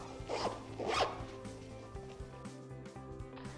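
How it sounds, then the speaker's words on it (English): A clothing-style zipper on the fabric graphic cover of an inflatable air stool is unzipped in two quick close pulls, then a low rustle of handling follows. "first thing I'm going to do is unzip the bottom of the graphic"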